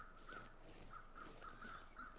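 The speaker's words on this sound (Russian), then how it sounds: "Где-то полетели эти птицы." Crows caw in a snowy wilderness in the survival game The Long Dark, several short harsh calls spaced irregularly at a moderate distance over faint ambient wind.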